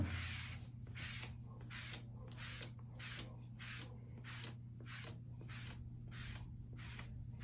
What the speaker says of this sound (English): Takes a few minutes to clean it all, but just scrub your whole cutting mat.